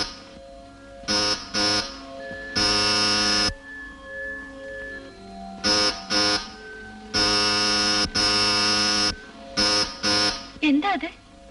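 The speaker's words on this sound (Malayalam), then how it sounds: "കുഞ്ഞിന്റെ അലാറം കോളാ" Electric alarm bell in a 1981 Malayalam family film rings in repeated loud buzzing bursts, some short and some long, separated by quieter room tone, with a voice briefly heard near the end.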